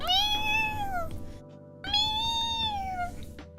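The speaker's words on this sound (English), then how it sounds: "I think I hear a kitten outside my door going meow" A kitten meows outside a door, two long drawn-out tonal meows separated by a short pause, clear and fairly close.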